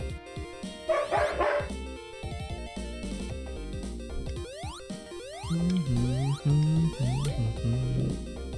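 Dogs barking in the video game Sonic 3D Blast, a series of short synthesized barks and yips over busy game music and sound effects, louder clusters near the start and toward the end.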